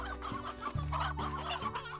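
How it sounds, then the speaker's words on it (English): Chickens in the video game Slime Rancher cluck in quick, close, overlapping bursts, a busy flock chattering steadily with no voices over it. "Oh, some more chickens here."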